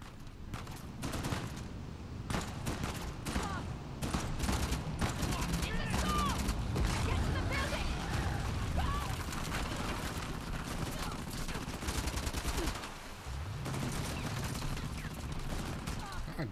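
Gunfire erupts in the Uncharted The Lost Legacy video game, dense sustained volleys and rapid bursts filling the whole stretch, with a brief lull near the end before shooting resumes.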